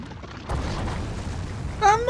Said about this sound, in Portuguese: Ah, explodiu ali.